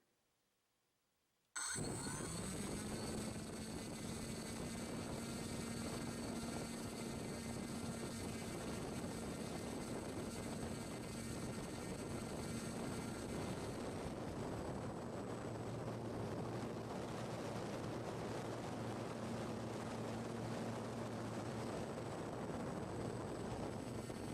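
An electric model aircraft motor and propeller spin up on a thrust stand after a moment of silence, then hold a loud, steady, close-up whine for over twenty seconds at constant throttle.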